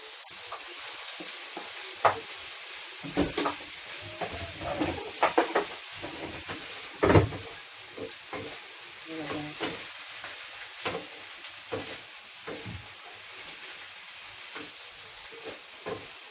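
Bottle gourd sizzles and hisses as it is sautéed in a pan, with repeated scraping stirs and clatters of a utensil over a steady frying crackle and no voices.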